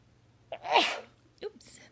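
A single sneeze bursts out midway, with a short breathy sound right after and a faint steady hum in the background.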